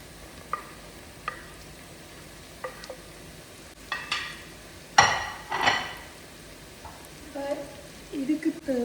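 Sliced mushrooms sauté in a pan while a utensil stirs them, giving sparse clinks and scrapes over a soft sizzle. A brief voice is heard near the end.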